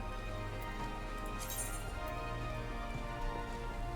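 Rain falls in the Final Fantasy XIV game world, a steady hiss of drops under a low game hum, with a brief brighter chime-like shimmer partway through and no talking.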